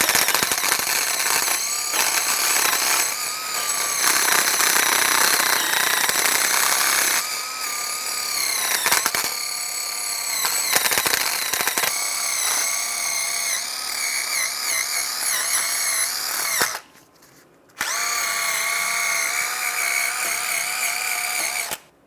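A wire brush scrubs surface rust off the front wheel hub of a 2011-2015 Chevrolet Cruze during a brake job, making loud, harsh, continuous power-tool grinding and rasping with brief pauses and one short gap near the end.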